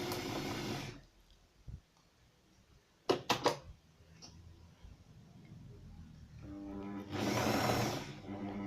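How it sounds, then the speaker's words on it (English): A New Home sewing machine set to zigzag stitch whirs in two short running bursts, one at the start and one near the end, with quiet mechanical clicks and handling noises between them. "I just want to demonstrate that it is working. Set on a zigzag at the moment."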